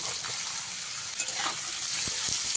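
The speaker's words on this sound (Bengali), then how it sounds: "আর তেলটা গরম হয়ে গেলে তাতে দিয়ে দিচ্ছি হাফ চামচ গোটা জিরে" Half a spoon of whole cumin seeds frying in hot oil, a soft, even sizzle heard close and steady with a couple of faint low knocks near the end.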